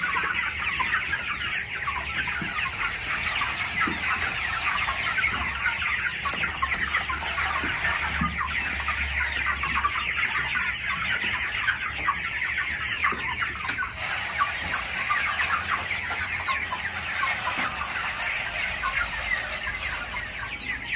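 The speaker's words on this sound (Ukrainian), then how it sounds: "малоподвижні щось вони. Ці бройлери. Голодні, голодні." Hungry broiler chickens cluck steadily throughout, a dense, continuous chorus of many birds close by with no talking.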